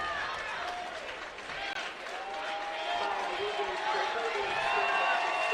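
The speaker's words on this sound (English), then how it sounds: "The Madrid crowd up, giving their team a standing ovation" Home crowd at a college basketball conference tournament game in Madrid rising for a standing ovation, a steady wash of applause and cheering that builds slightly toward the end, with scattered voices mixed in.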